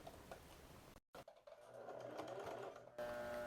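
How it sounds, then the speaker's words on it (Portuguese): A sewing machine stitching fabric close to an overlock-finished edge on a wrap skirt-shorts, its steady mechanical whir running continuously after a brief stop. "Vou fazer a costura bem rente ao acabamento da overlock."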